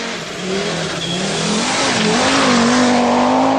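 A four-wheel drive Audi Quattro rally car drives hard on muddy surfaces, its engine note climbing steadily in pitch as it accelerates, loud and close with a constant roar and no talking.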